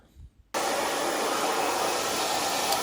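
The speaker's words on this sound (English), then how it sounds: "Now, time to blow dry her hair" A hair dryer blows steadily on wet, porous, highlighted hair. A few faint clicks come first, then the dryer switches on abruptly and holds a loud, constant roaring whoosh to the end.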